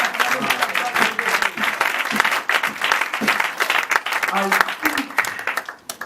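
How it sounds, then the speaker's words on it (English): Church congregation at a conference clapping for the men of God: loud, continuous applause from many hands, with voices calling out over it throughout. "clap our hands for them"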